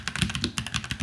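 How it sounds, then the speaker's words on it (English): Typing on a NuPhy Halo 65 compact wireless keyboard with brown tactile switches, a steady run of close, crisp keystroke clacks in quick irregular rhythm, with no voices. "I've been enjoying the typing experience on the Halo 65 with the brown switches"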